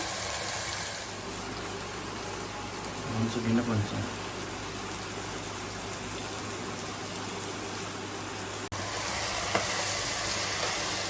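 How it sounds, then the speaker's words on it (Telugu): Rice frying in oil in a pan while cooking veg pulao, a steady hissing sizzle with faint stirring scrapes, continuous and close throughout. "మనం ఎప్పుడైనా పలావ్ చేసుకునేటప్పుడు రైస్ని ఇలా ఆయిల్లో ఫ్రై చేయాలండి"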